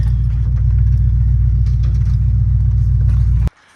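An old Ford Bronco's engine rumbles steadily and loudly at close range while off-roading in the woods, a constant low drone that cuts off abruptly near the end.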